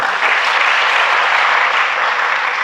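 Sustained applause from a college audience welcoming first-year students and staff at an orientation event, a dense, loud, even patter of many hands clapping throughout.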